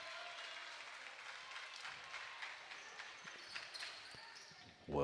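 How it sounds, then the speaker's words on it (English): Crowd applause in a gym during a high school girls' volleyball match between the Tigers and North Vermilion, a steady broad wash of clapping at moderate distance with chatter mixed in and a louder burst at the end. "Well-deserved round of applause for the Tigers even after losing that point"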